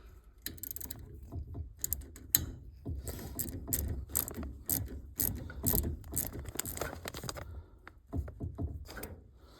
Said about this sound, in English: now all we've got to do is put the screws in